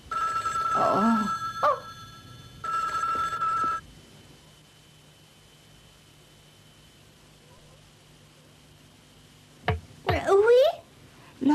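Two bursts of a ringing telephone bell sound indoors near the start, separated by a short pause, then quiet follows before voices speak toward the end.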